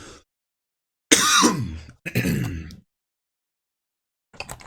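Two close, rough coughs follow one another after a moment of silence, with a little more sound trailing in at the end.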